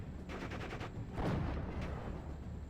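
Anti-tank gun fire in a World War II wargame pitting Panzer Lehr against the 101st Airborne, a quiet burst of rapid shots followed by a heavier blast and a lingering rumble.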